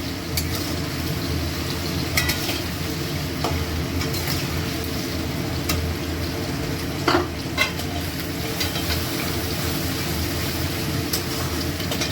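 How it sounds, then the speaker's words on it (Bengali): Potatoes fry lightly in hot oil for a banana stem curry, giving a steady, even sizzle throughout with a low background hum and an occasional faint clink near the middle. "এবার আমি আলুটাকে ভেজে নেবো হালকা করে"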